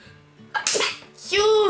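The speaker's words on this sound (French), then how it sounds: "Ça me fait éternuer." A single sharp sneeze bursts out close by, with a quick intake of breath before it, and faint voiced sounds around it.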